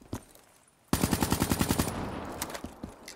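Rapid burst of video game automatic gunfire, about a dozen evenly spaced shots firing close and loud after a single earlier pop, then fading into a couple of scattered shots.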